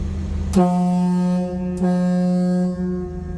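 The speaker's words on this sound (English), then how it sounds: "Here's your air horn button." Two loud blasts of an air horn on a 1965 Ford E-100 Econoline, a long one followed by a second, deep and sustained, close by and ringing out over a faint background hum.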